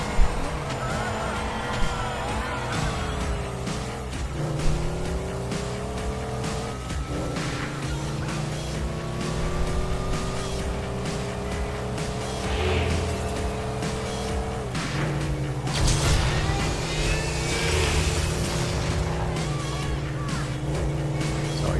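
Race car engines roar continuously through a two-lap circuit race in Midnight Club LA, with rising and falling revs, gear shifts and occasional tire squeals, loud and steady throughout.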